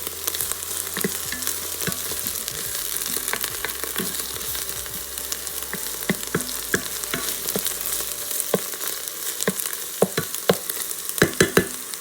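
Sliced mushrooms cook in an Instant Pot pressure cooker on its sauté setting, giving a steady close sizzle and frying crackle with scattered stirring clicks and scrapes throughout, without speech.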